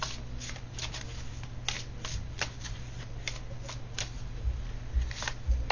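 Tarot cards are shuffled by hand in quick, close riffling bursts, a run of crisp papery flutters over a low background hum, with no talking.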